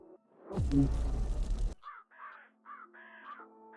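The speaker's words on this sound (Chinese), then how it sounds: "是乌鸦叫。" Crows caw in a quick series of short, harsh calls at moderate distance, coming right after a loud, rumbling burst of noise.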